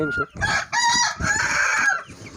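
A broody hen sitting on eggs clucks close by in drawn-out, throaty calls, with one short note followed by a longer wavering stretch.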